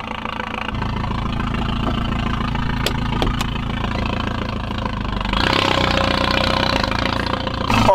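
An Audi TT engine runs steadily after starting, a continuous close idle hum with a rough, slightly knocking texture that swells a little louder near the end, with no talking.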